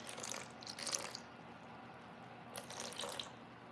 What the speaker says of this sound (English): I usually have a water tank that gives you, the hot and cold water, so I mix it half and half